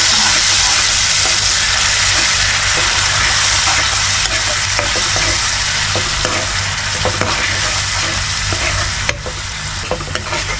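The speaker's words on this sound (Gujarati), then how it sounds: "ટમેટા ડુંગળીની ગ્રેવી કરેલી છે જે નાખી દઈએ." Tomato and onion gravy frying in a hot pan for masoor dal, a loud, continuous close-up sizzle with crackling and occasional stirring clinks throughout.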